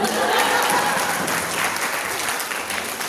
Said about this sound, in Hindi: एलपी वृंदावन योजना के सबसे बुजुर्ग व्यक्ति के लिए जोरदार तालियां